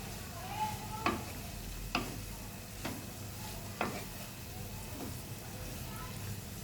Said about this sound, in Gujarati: આ રીતે આપણે હલાવતા રહેવાનું છે। મૂળાની ભાજીને